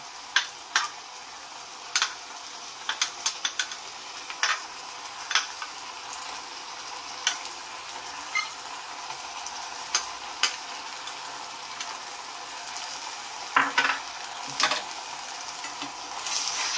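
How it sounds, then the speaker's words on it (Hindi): A steady sizzle of onions and ginger garlic paste frying fills the background, broken by occasional scrapes and clicks of a spatula against the pan. "तो उसको अच्छे से अदरक लहसुन का पेस्ट और प्याज को अच्छे से भून लीजिएगा"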